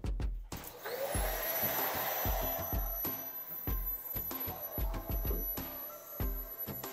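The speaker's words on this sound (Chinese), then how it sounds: "测一下这一台吸尘器的功率" A vacuum cleaner powered by a portable 5000Wh power station runs steadily close by with a loud, even whine. Frequent knocks and bumps come from the nozzle being moved around.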